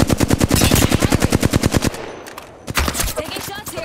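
Video game gunfire: a loud, rapid burst of automatic shots rattles off evenly for about two seconds, then sparser shots and impacts follow after a short lull.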